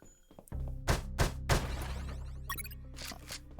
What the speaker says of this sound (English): Get my gun out so I can go bang.